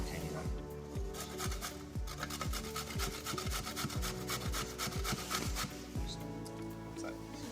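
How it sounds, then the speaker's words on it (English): Zucchini rubbed over a grater in quick repeated rasping strokes, a steady scraping rhythm close up and fairly quiet, with no talking. "Now I'm going to do is grate my ingredients."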